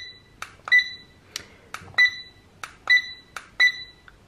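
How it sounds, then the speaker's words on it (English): Short electronic bleeps from a BT21 LED digital desk clock being set for an alarm, several crisp high-pitched beeps spaced irregularly over a few seconds, close and clear against a quiet background. "You press set for 2 seconds until you hear that bleep."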